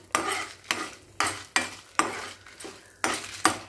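Asafoetida, urad dal, black pepper and fenugreek frying in sesame oil for karuvepilai kuzhambu. A close sizzle is cut by about seven sharp, evenly spaced scraping strokes of a spoon or ladle against the pan, with no voices.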